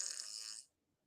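A fart sound from a phone fart app, a single short hissy burst lasting about half a second before cutting off into silence.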